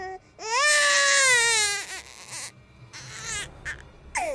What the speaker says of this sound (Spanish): El llanto de nuevo.